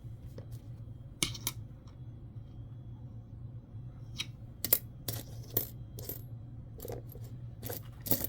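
Nickel coins are sorted by hand into a pile, giving sparse, close metallic clinks and clicks at irregular intervals over a low, steady background hum.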